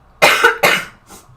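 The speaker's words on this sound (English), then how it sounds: "Sorry, I'm going to cough again." Two harsh, close coughs in quick succession from a painter during a live watercolour session, followed by a softer, fainter third cough.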